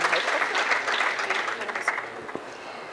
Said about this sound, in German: eine gute Gelegenheit für Applaus